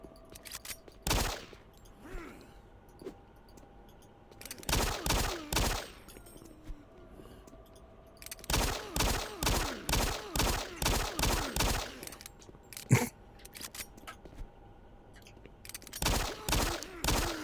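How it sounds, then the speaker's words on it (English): Pistol shots ring out in Doom 3, fired in quick bursts of several rapid cracks separated by short pauses, loud and sharp against a quiet, dark ambient background. "here I go shooting in the dark again"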